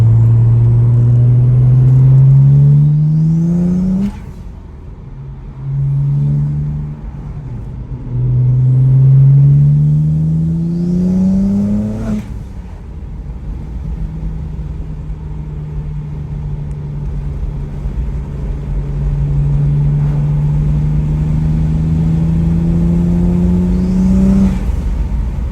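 A BMW 135i with a freshly installed clutch and an MHD tune drives steadily, its engine note rising through the gears in repeated swells and shift breaks, then holding a long, even cruising drone, loud and close with no talk.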